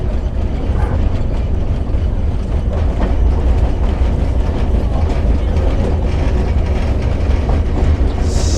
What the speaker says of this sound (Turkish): Şimdi trene bindik.